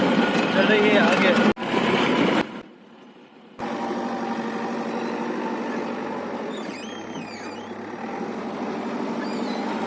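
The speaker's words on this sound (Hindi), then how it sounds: "भाई साहब जेसीबी चल रही है आगे" A JCB excavator engine runs with a steady diesel rumble and chugging throb, briefly cut off and then resuming at a constant level, with a voice speaking over parts of it.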